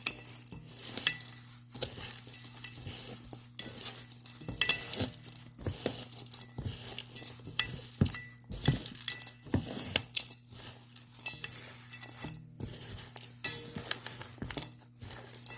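A spoon clinks and scrapes through homemade parrot chop in a bowl, giving a steady series of close, irregular metallic taps and stirring rattles with no voices.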